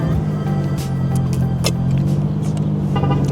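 A Nissan R32 GT-R engine idles steadily with a low, even rumble, close up, with small clicks and rattles on top.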